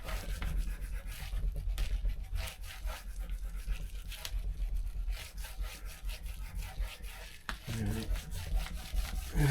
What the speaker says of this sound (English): Give it a really good rub into place.